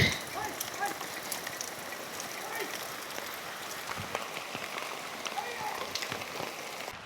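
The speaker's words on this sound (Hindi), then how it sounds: "हो रही झमाझम बारिश" Heavy downpour in a forest near a hermit's hut, a steady broadband hiss with scattered nearer drops and patters throughout, fairly loud and constant; a faint voice may sit under the rain.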